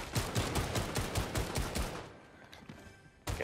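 Bots trade rapid bursts of gunfire in a video game, a dense rattle of shots for about two seconds, then a quieter lull before a final sharp shot.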